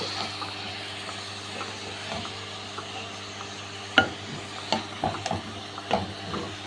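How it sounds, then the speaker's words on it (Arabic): Chopped onion and meat frying together in a pot, a low steady sizzle with a few sharp clinks and scrapes of a spoon against the pot toward the end, close and fairly quiet, no speech. "قطعنا البصل مع اللحمة، حطيناه مع اللحمة اهو"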